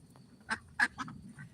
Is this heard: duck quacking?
yes